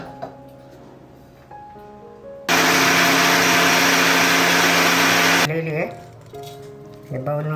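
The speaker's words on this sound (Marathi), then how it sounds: "आपण मिक्सर लावूया." An electric mixer grinder whirs loudly for about three seconds while blending carrot chutney, a dense steady roar that starts and stops abruptly, with quieter talk and kitchen noise before and after.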